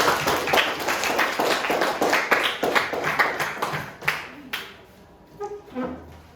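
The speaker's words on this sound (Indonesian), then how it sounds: "tepuk tangan untuk kelompok 5" Students in a classroom applaud a presenting group with rhythmic, fairly close hand claps. The clapping thins into a few scattered claps before stopping.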